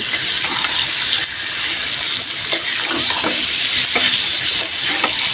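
Vegetables frying with fish oil and spices in a pan, a loud continuous hissing sizzle with occasional scraping and stirring knocks, close up and with no talk.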